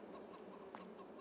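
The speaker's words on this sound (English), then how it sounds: "You've got your chickens." Chickens clucking in a farmyard in Farming Simulator 22, a faint, brief run of soft clucks over steady low background noise.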